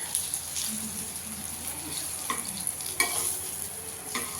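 Mocha (banana flower) fritters fry on a very low flame in a pan. A steady, close sizzle continues throughout, with a few light scrapes and clinks from the pan.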